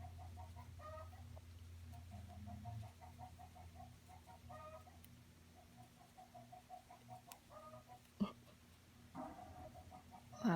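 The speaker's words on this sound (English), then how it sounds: "Loud chickens." Several chickens cluck in a rhythmic run of short calls, fairly close, over a steady low hum, with a couple of louder bumps toward the end.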